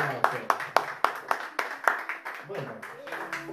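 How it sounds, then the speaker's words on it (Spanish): A small crowd at a live show claps in a short, loosely rhythmic burst, sharp distinct hand claps that thin out within a few seconds, with a voice faintly beneath. "Fuerte el aplauso para mí. Fuerte el aplauso."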